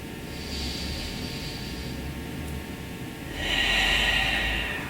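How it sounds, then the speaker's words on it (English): Two long, deep breaths during an evening stretching session, a soft airy inhale followed by a louder, fuller exhale close to the mic, with no speech over them. "One more deep breath"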